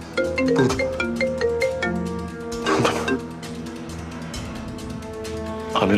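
A mobile phone ringtone plays somewhere nearby in a drama scene, a melodic electronic tune of quick repeated notes that carries on steadily with no voices over it.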